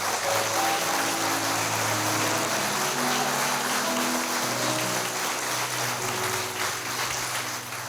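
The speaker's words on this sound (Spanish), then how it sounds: "Si le va a dar un aplauso al Señor" Sustained applause from a church congregation, a dense, steady wash of clapping that holds evenly throughout with no break.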